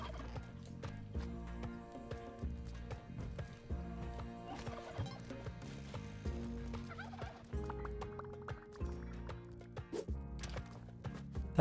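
A turkey in a video game gobbles repeatedly over dense, continuous game music, with the calls mixed into a busy soundtrack.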